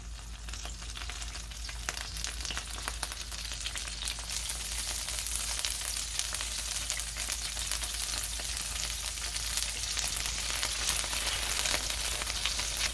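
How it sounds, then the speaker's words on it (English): Tortillas and cheese toasting in a pan for birria brisket street tacos, a steady dense sizzle and crackle of frying that holds evenly throughout, with no talking. "Get a couple of tortillas in here, kind of toast, your cheese."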